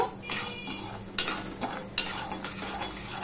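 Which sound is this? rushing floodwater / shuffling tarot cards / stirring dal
stirring dal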